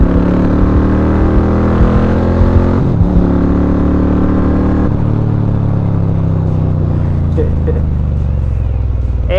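An Indian Roadmaster Thunderstroke 116 motorcycle ridden at speed, its loud engine droning and shifting pitch as it revs and eases off, with rushing wind noise, close and continuous.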